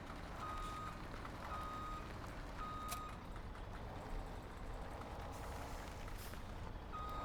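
A dump truck in the farming game Farming Simulator 17 sounds steady, evenly spaced reversing beeps over a constant engine drone, repeating about every second and a half.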